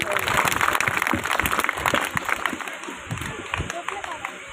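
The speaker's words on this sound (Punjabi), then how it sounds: "ਤਾੜੀ ਬਣਦੀ ਆ ਜੀ ਖਿੱਚ ਕੇ ਲਾਓ" Applause from a village crowd at an anti-drug oath-taking event: dense, sustained clapping that starts loud and thins out over a few seconds, with voices underneath.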